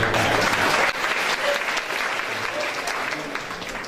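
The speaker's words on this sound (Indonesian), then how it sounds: "kita beri tepuk tangan untuk beberapa orang" An audience at a university campus discussion claps steadily, dense applause filling the room for a few seconds and easing slightly toward the end.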